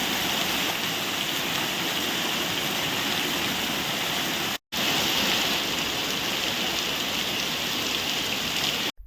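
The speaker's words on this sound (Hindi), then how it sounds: "काले काले बादलों के साथ यहां धीमी धीमी बरसात दर्ज की गई, जिससे सड़क पर पानी बहता हुआ नजर आया।" Light rain falls with water running along a road, a steady dense wash of patter and flow that carries on throughout, broken by one brief cut partway through.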